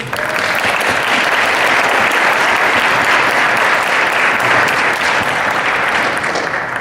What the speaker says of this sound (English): You all deserve a major round of applause.